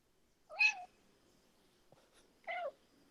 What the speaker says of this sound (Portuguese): Tem um gato aí?